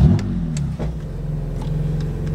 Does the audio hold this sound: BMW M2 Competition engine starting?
yes